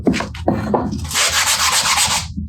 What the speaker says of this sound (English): Some coarse ass 60 grit.